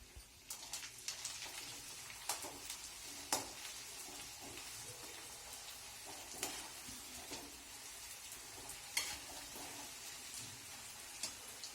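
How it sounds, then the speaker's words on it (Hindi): Edible gum pieces (gond) fry in 200 grams of desi ghee in a kadhai over a medium flame, a faint, steady crackling sizzle broken by small pops, with no voices. "गोंद तल रहे हैं।"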